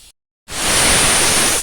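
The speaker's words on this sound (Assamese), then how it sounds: "কাপৰখন মাৰি এটা চিটি আহিবলৈ দিম মই এয়া মোৰ চিটি আহিবলৈ আৰম্ভ কৰিছে" After a brief silence, a pressure cooker cooking chicken with bora rice lets out an abrupt, loud, steady hiss of escaping steam from its whistle, very close and continuous.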